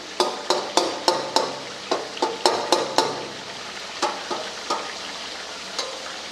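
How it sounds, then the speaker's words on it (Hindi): Tomatoes are mashed into a sizzling Peshawari chicken karahi, with a spatula knocking the pan in quick, irregular strikes over a constant frying hiss, close by. "टमाटर को ऐसे मसल देना है।"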